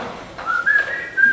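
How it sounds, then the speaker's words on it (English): A short, clear whistle holds a thin steady tone, rising slightly as it starts, with a brief break before it resumes. "So I can whistle."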